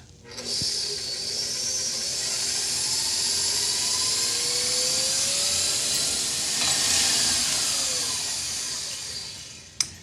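Gluten-free red velvet cookie dough churned in a stand-mixer bowl, a steady loud motorized whir with bright hissing texture running throughout, rising slightly near the end before cutting off with a small knock.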